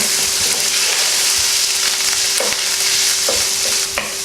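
Two cups of frozen peas sizzle steadily in a hot pan while a utensil scrapes and stirs them every second or so, with a constant loud frying hiss up close.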